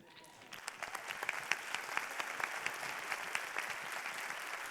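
An audience at a Tec de Monterrey event honoring an independent Mexican presidential candidate claps, the applause swelling in a second into a dense, even patter of many hands that holds steady.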